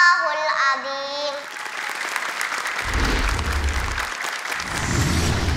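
A studio audience at an Indonesian Quran memorization competition breaks into sustained, fairly loud applause after a recitation ends. The clapping dense and steady, and a low rumble of crowd noise comes and goes beneath it.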